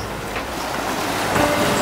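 Ocean water off Key Biscayne sloshes and churns in a constant close rush, growing slightly louder toward the end, with wind noise mixed in and no one speaking.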